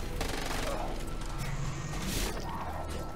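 Gunfire in the Far Cry 6 video game, a sustained dense burst of shots with heavy recoil against a noisy game mix, loud and continuous.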